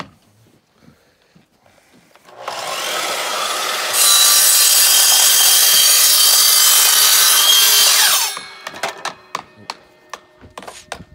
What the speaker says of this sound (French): on a besoin de la boîte à ondelettes environ juste au début pour couper juste pour les coins